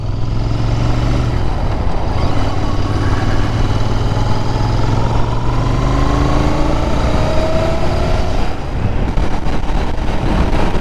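A Royal Enfield Continental GT 650 with ABS accelerates on a road toward a tunnel. Its continuous engine drone climbs steadily in pitch under constant wind rush, loud and close, with no voices.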